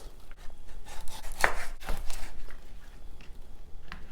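A kitchen knife chops fish on a board while native soup is prepared, a few soft, sparse knocks with one sharper cut standing out, close and fairly quiet, with no talking.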